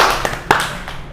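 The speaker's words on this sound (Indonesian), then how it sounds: "tepuk tangan" A few scattered hand claps from a talk show audience, brief and close, fading out within about a second.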